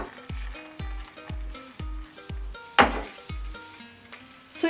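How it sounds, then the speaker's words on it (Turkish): Diced beef sizzles and fries in about three tablespoons of oil in a pan while it is stirred, with a steady hiss under a rhythmic series of deep thumps and scraping, plus a sharp clatter midway and at the end. "Tavamıza 3 yemek kaşığı kadar yağ ekledim ve doğranmış olan kuşbaşı etimizi ekleyip karıştırıyorum"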